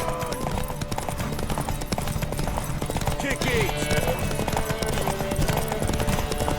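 In The Witcher 3 video game, galloping hooves pound rapidly and continuously during a horse race while people shout over them, with a brief horse whinny mixed in.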